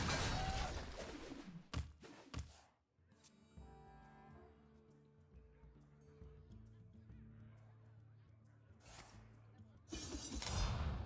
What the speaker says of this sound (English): Those are some birds.